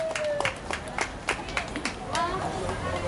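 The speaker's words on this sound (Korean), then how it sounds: "멋진 색소폰 연주를 해주실 전복희님을 박수로 맞아주시기 바랍니다." A festival crowd at a market shopping event claps to welcome a saxophone performer, with scattered, uneven claps standing out over chatter and background voices.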